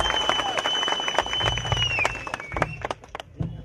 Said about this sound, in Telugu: మీరందరూ ఈ తీర్మానాన్ని ఆమోదిస్తే చప్పట్ల ద్వారా ఈ తీర్మానాన్ని ఆమోదించాల్సిందిగా నేను కోరుకుంటున్నాను